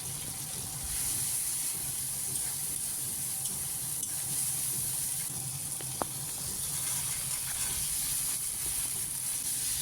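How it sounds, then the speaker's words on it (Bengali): Potatoes and tomato fry in a spice masala, giving a steady close sizzle and hiss with faint stirring throughout and a brief clink near the middle. "আলুটা দিয়ে দিলাম, দিয়ে ভালো করে কষিয়ে নেব"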